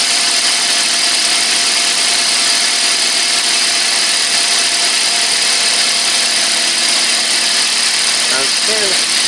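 A Toyota Corolla with a VVT-i engine idles after a valve cover gasket replacement, giving a loud, steady, unbroken hum that runs the whole time.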